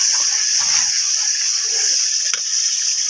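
Masala for chicken handi fries in a pot with a steady, loud sizzling hiss that runs throughout, with faint clatters mixed in.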